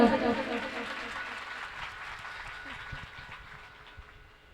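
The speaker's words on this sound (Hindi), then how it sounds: "इस बात पे मैं ताली बजाऊंगा" Faint clapping from the audience at a Hindu religious katha gathering, loudest at the start and thinning out as it fades away over a few seconds.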